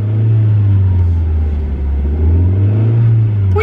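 A car engine revs steadily and loudly from inside the vehicle while a woman works the gas pedal, a deep continuous drone rising slightly in pitch near the end, with no talk over it.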